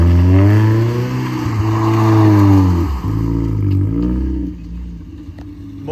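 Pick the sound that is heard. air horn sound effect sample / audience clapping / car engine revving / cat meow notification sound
car engine revving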